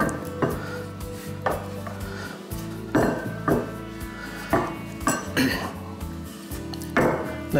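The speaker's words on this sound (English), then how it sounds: "I tend to just roll it out like this" Wooden rolling pin working pizza dough on a floured board, giving regular soft thumps and rolling scrapes about once a second, with light kitchen clinks in the background.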